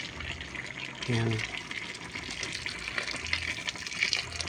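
Hot water poured into a cooking pot for a papaya tinola, producing a steady rushing, splashing stream from start to finish, with a brief spoken word early on.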